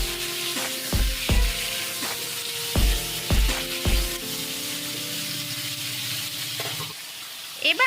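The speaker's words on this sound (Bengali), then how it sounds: "আবারও সবকিছু ভালোভাবে 5 মিনিট ভাজতে থাকবো।" Tomatoes and salt fry in a pan, a soft steady sizzle broken by several sharp scraping knocks as a spoon stirs and taps, then the sizzle fades at the end.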